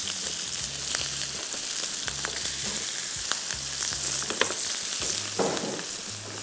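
Food sizzles steadily in a hot pan throughout, with a few scattered clicks and pops and a low rhythmic hum underneath; no voices.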